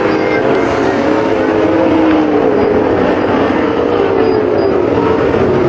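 Sprint cars race down the back straightaway on a Waco, Texas dirt track, a loud continuous engine roar with a pitch that slowly sweeps downward as the pack passes.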